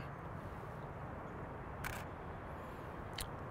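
A camera shutter on a Canon DSLR fires twice at 1/30th of a second, two short crisp clicks spaced well apart over quiet room tone.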